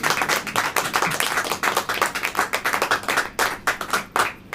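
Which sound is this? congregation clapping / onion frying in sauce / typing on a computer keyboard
congregation clapping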